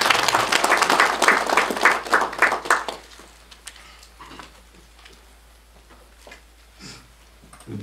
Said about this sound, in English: Shall we give a round of applause for him?